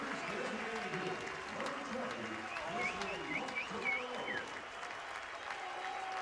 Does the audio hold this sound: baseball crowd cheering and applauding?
yes